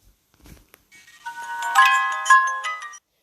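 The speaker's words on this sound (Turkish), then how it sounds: "Güzel bir müzik çalıyor." Chiming melodic game music with bell-like tones from The Baby in Yellow, a horror baby-care video game in its Christmas update, rising after a near-silent start and playing steadily without talk.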